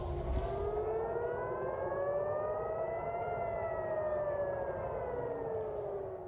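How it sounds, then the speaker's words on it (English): Air raid sirens sounding across Israel during an Iranian missile attack, a long wailing tone that rises and falls slowly, distant and steady over a low rumble of background noise, with no voices. "Some of the sirens and explosions that have been heard across Israel as Iran launches several waves of retaliatory missiles toward the country."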